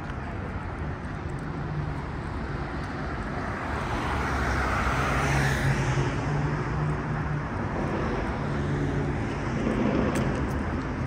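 Steady city traffic flows along Ted Rogers Way near Charles Street East, a continuous broad roar of passing cars at moderate distance with low engine rumble swelling mid-way, no talk over it.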